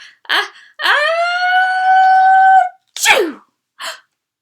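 A storyteller's voice imitates a sneeze during a singalong counting rhyme about marching ants: a short breath, a long drawn-out rising 'ah' lasting nearly two seconds, then a sharp burst, with a brief voiced sound after.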